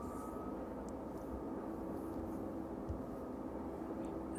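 A Boeing 737-800 at East Midlands Airport, a 19-year-old airliner, gives off a steady broadband engine roar that holds at an even loudness throughout, with no voices over it.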